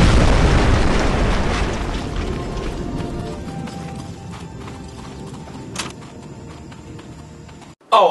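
A tank is blown up in the WWII shooter Medal of Honor: Frontline. A loud, broad blast rumbles and slowly fades over several seconds, with a faint crackle and a brief thump near the end.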